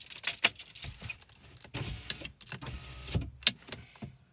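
Power windows of a Rover 75 car whir in short bursts, mixed with sharp clicks and jangling, close up and fairly quiet.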